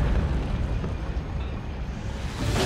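A nuke detonates in the real-time strategy game Dawn of War II: Retribution, a loud continuous rumbling roar with a heavy low end that sustains for several seconds, with no voices over it.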